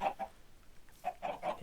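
Minecraft chickens clucking on an automatic chicken farm, a few short close clucks at the start, a brief pause, then several more bursts in quick succession.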